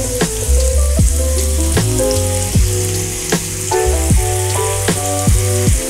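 Food grills in a frying pan with a little oil, giving a loud, close, steady sizzle and crackle with periodic sharp pops and the scrape of turning pieces, no voices.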